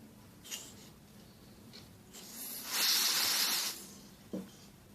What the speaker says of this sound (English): so I use this body spray